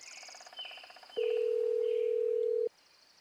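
A single steady phone ringback tone sounds clearly for about a second and a half while a call is placed, alone and at an even level, with faint chirping background before and after.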